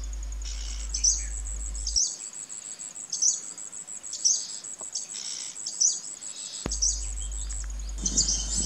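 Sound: crimson-backed sunbird calling

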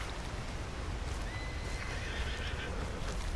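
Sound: horse whinnying, from the video game Red Dead Redemption 2

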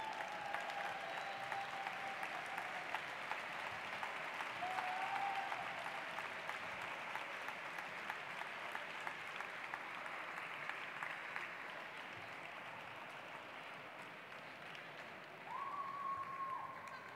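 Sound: audience applause at graduation ceremony

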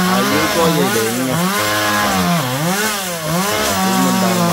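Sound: chainsaw cutting a large coconut or jackfruit tree

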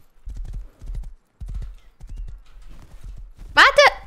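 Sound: horse hooves in the video game Rust

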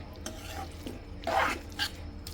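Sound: stirring and roasting spiced vegetables in a pan for biryani

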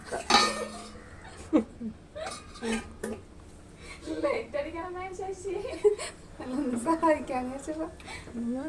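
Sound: stirring fish curry in a cooking pot

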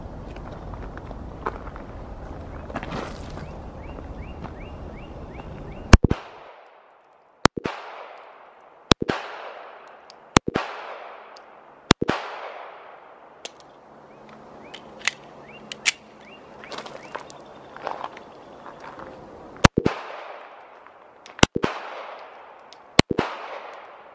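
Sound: Glock 42 pistol gunshots fired at 15 yards

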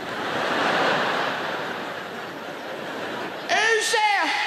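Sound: voice imitating a fridge noise at night

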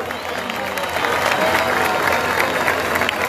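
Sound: stadium crowd applauding the volunteers

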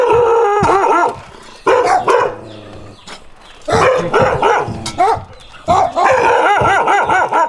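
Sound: dogs barking

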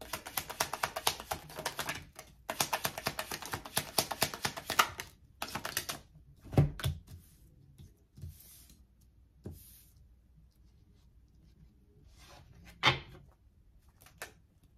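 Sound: tarot cards being taken out and handled

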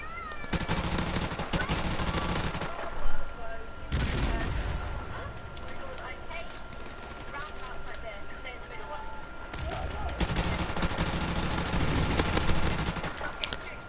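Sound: light machine gun fire in Call of Duty video game

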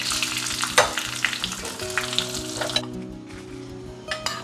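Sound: dried red chillies and curry leaves sizzling in tempering oil

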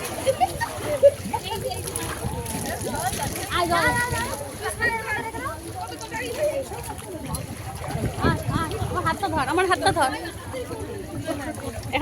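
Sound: child splashing in Ganges river water

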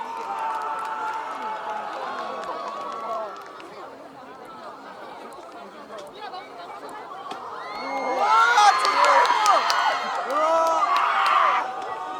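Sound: audience applauding and cheering at festival stage

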